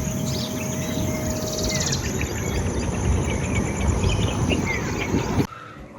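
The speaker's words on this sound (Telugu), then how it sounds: "మనకి పిచ్చుకల సౌండ్స్ అవి ఈ మధ్య ఎక్కువ రావట్లేదు కదా" Busy outdoor chirping of sparrows near the Kollapur tiger reserve, over a steady rumble of ambient noise that cuts off abruptly near the end.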